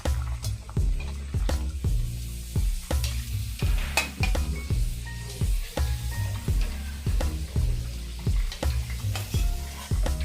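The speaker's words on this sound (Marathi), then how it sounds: "त्यावर सर्व करंज्या अशा तळून घ्याव्या." Karanji pastries deep-frying in oil, bubbling sizzle punctuated by a regular series of rhythmic sloshing scrapes and clunks from a slotted spoon turning them, close and moderately loud, no voices.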